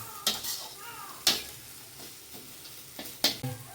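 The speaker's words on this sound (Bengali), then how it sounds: "মাছের তেল আর এই যে তেল পটকা সব দিয়েছি, সুন্দর ভাজা হয়ে যাবে" Bitter gourd shoots fry in fish oil with fish fat in a pan, a faint low sizzle under several distinct scraping clinks of a spatula against the pan.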